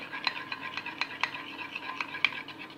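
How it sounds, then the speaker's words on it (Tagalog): Spoon clinking and scraping against a mug while stirring a butter mixture for a microwave mug cake, light taps in an irregular rhythm, close and fairly quiet with no voices. "Stir, mix natin na mabuti."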